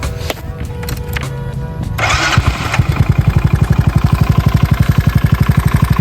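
A Mio Sporty scooter's upgraded starter motor whirs briefly before the engine catches and settles into a loud, steady, rhythmic idle putter, heard up close.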